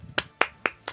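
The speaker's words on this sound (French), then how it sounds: "Et on applaudit le Reptincelle." Four crisp hand claps at a steady, even pace, close and distinct with quiet gaps between, applauding the Pokémon Reptincelle (Charmeleon) during a Pokémon Let's Go Evoli play session.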